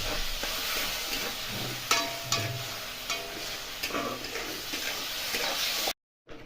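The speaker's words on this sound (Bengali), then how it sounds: "অল্প জল দিয়ে কষলে মশলাটা ভালো কষাও হয়।" Spice paste for soybean do pyaza is stir-fried with a splash of water in a pan, giving a steady soft sizzle broken by a few scraping stirs and clinks, then cutting off abruptly near the end.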